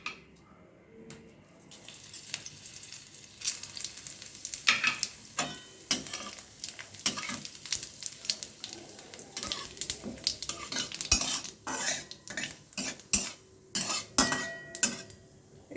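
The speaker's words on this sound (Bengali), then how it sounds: "আমি কড়াইয়ে 2 চামচের মতো সরষের তেল দিয়ে নিয়েছি। এরপরে আমি এখন ফোড়নে দেব গোটা শুকনো লঙ্কা," Whole dried chili, bay leaf and cumin tempering in mustard oil in a wok, crackling sizzle with frequent close utensil scrapes and clinks, building after a quiet start and continuing steadily.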